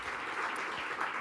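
Steady applause from an audience at a live-streamed African Natural Capital Alliance panel event, a dense even wash of clapping with no talk.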